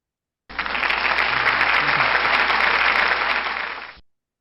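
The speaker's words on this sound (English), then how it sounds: "So round of applause," An audience applauds at a talk, with a burst of steady, full clapping that starts abruptly, holds evenly for about three and a half seconds, then stops cleanly with no voices over it.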